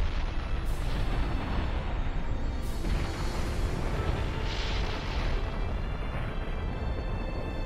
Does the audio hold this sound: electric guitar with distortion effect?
no